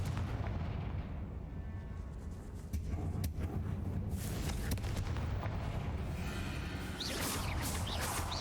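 A Confringo spell bursts inside a tomb in Hogwarts Legacy, heard as a dense rumbling blast and roar of game explosion effects, with sharp whooshing flares layered near the end and no voices.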